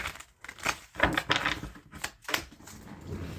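Tarot cards being shuffled in several short, crisp bursts of papery riffling, close up and fairly loud, with brief gaps between the shuffles.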